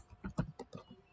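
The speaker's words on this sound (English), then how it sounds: "And type in Ernest" Keystrokes on a computer keyboard, a short burst of about six or seven distinct clicks in a quick irregular rhythm, close and fairly quiet.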